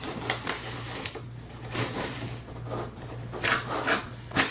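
A heavy blade cuts through a 3D wall panel tile in a series of short scraping, rasping strokes with brief pauses between them. A low constant hum sits underneath.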